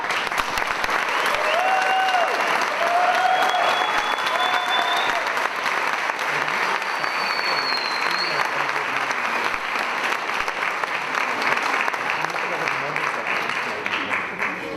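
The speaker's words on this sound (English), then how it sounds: "Let's give them another round of applause." An audience at a LatinX graduation ceremony claps for the graduates in sustained, even applause lasting the whole stretch. A few faint whistles rise above it.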